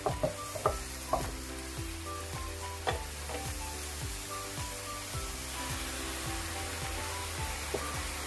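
Cauliflower and shrimp sizzle steadily as they are stir-fried in a pan, a soft continuous frying hiss with a few light clinks of a utensil early on.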